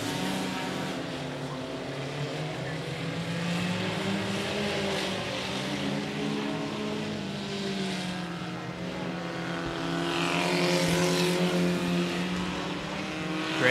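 Race cars roar continuously around a speedway oval during a regular race program at 105 Speedway, engines droning steadily and swelling as the pack passes close, with a louder surge near the end.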